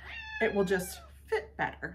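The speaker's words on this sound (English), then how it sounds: "Oh, that's the cat." A cat gives a couple of short meows in a quiet room while someone speaks over and between them.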